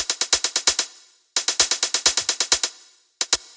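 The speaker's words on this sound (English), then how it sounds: "The first thing is just this 909 hi-hat." A Roland 909 hi-hat sample ticks in quick, even bursts of short bright hits, pausing twice before resuming, crisp and alone with no other sound.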